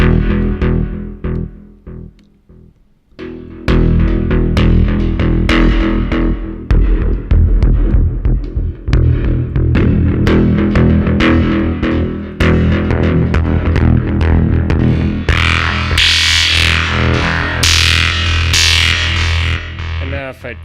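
Thorn VST synth plugin played with its high quality option switched off, producing a dense, sustained synth texture with rhythmic pulsing notes and bright upper hiss building toward the end, loud and continuous after a brief quieter start.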